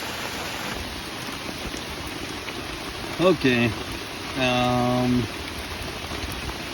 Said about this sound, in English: It is raining, and I got a fire